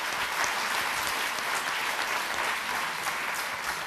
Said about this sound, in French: je vous demande d'applaudir notre ministre qui est ici présente